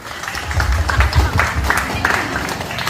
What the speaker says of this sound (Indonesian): Untuk itu kita tepuk tangan untuk kita semua.